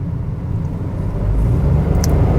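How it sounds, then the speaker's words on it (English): From inside a 2017 Mitsubishi Mirage G4, the engine drones as a loud low-frequency rumble that swells slightly as revs climb partway through, steady and close with no talking. "I'm distracted by all the noise in the car and how loud it is when I'm revving up"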